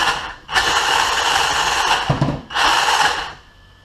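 An electric motor on a Sidewinder RC crawler whines up in two close bursts of acceleration, each lasting about one to two seconds, with a brief dip between them before fading to near silence.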